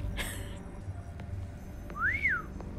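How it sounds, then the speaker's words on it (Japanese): A video game character in Honkai Star Rail whistles a single short rising-and-falling note, clear but fairly quiet, over a low background hum. "また口笛吹いた。"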